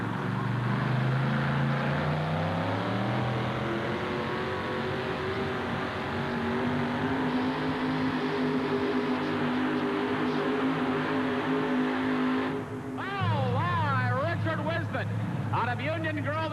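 A pulling tractor roars through a run at a 1988 tractor pull in Memphis, its loud sustained engine climbing in pitch as it pulls down the right-hand side of the track, with an announcer talking over it throughout.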